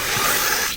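A lawn sprinkler zone bursts into a loud, steady hiss of spraying water close by, holding constant before easing off at the very end.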